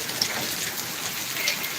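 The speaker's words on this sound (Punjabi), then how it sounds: "ਦੇਖੋ ਮੀਂਹ ਬਹੁਤ ਤੇਜ਼ ਆ ਨਾਲ ਹੋ ਰਹੇ ਨੇ ਗੜੇ" Heavy rain with large hailstones pounding the ground over a wheat field, a dense, steady hiss that stays loud and close throughout, with faint sharper ticks of impacts and no voices.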